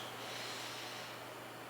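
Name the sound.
breathing in and out through the nose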